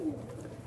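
A Pakistani high-flying pigeon gives one short, faint low coo close by, a single soft gliding note at the start, followed by a quiet murmuring hum.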